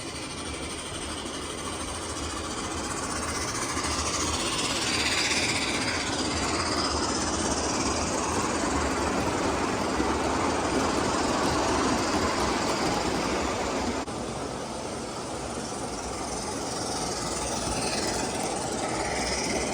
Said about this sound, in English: Train just came up the incline.